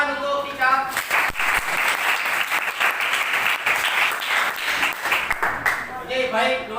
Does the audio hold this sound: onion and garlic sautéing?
no